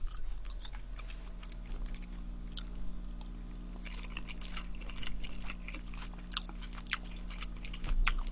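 Spicy Korean fish roe soup being eaten, with soft wet chewing and biting on the roe repeating steadily and close up under a constant low hum, with no talking.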